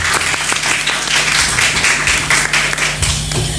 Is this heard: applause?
yes